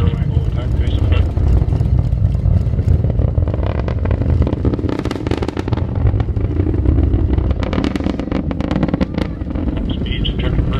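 Atlas V rocket launch at Kennedy Space Center, a loud sustained low rumble with crackling bursts building through the middle, heard over background chatter from onlookers.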